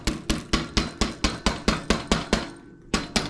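Rapid, regular hammer strikes using an old motorcycle part as a hammer, about three per second, sharp metallic knocks close up, with a brief pause near the end before two more blows.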